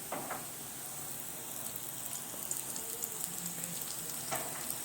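Masala fries in a small amount of oil for potato keema samosa filling, a faint, steady sizzling hiss with a few light stirring taps, heard close and quiet.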